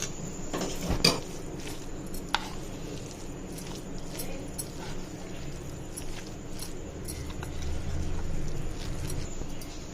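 Mayonnaise sandwich filling being mixed with fresh green coriander in a bowl, with a few soft spoon clinks and light scraping over a steady low background hum.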